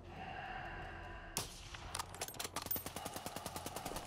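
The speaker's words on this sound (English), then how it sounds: "We're not worried about the gunfire going on around here." Video game gunfire in Warzone 2: a quiet stretch of ambience broken by a sharp shot, then rapid bursts of automatic fire, fairly close and loud, with no talk.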